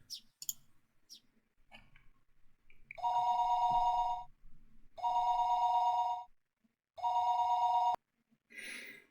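A telephone bell rings in three long, loud bursts with short pauses between them, an incoming call heard in a quiet house early on a Sunday morning, with a few faint clicks before it.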